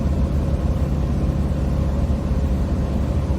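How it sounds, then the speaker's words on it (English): A car engine labours up a mountain highway in low gear, a steady, loud, droning hum with constant road and cabin rumble and no talking. "Well, just the engine."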